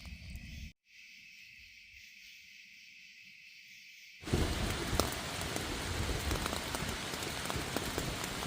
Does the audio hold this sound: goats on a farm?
no